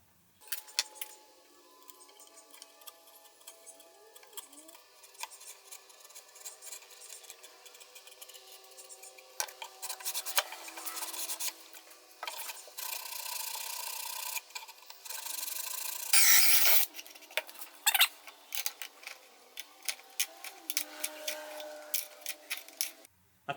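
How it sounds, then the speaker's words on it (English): Hand carving a relief behind the cutting edge of a wooden tool gives close, repeated rasping and scraping strokes of a blade on wood, steady at first and then busier and louder, with no talking. "I need to carve a relief this side of the cutting edge so there's somewhere for the shavings to go and to fall out through the bottom"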